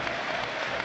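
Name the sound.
applause at Watford stadium as player leaves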